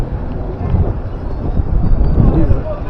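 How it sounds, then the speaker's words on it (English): Strong wind buffets the microphone on a busy Nairobi street beside a bus station, a loud, steady low roar of gusts filling the whole stretch. "It's windy nowadays, very windy in Nairobi."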